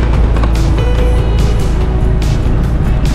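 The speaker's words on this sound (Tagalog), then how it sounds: "we're gonna ride the motorbike" Motorbike engine while riding in Sapa, Vietnam, a loud steady rumble with constant wind buffeting and rising and falling engine pitch, close up and continuous.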